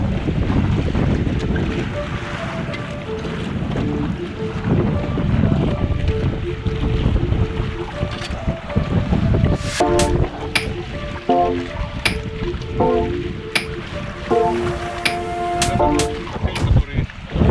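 A catamaran sails on the sea off a Maldives resort island, with constant wind buffeting the microphone and water rushing against the hulls, while people talk in the background and brief tonal sounds appear toward the end.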